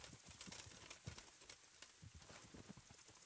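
Pebbles, a horse in Kingdom Come: Deliverance, approaches with a quiet, steady clip-clop of hooves in an even trotting rhythm.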